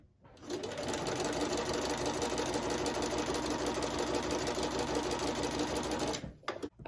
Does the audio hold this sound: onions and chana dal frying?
no